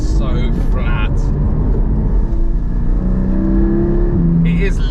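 A Porsche 718 Cayman GT4 with a PDK gearbox pulls hard out of a roundabout, its engine note rising through the revs from inside the cabin while someone talks over it.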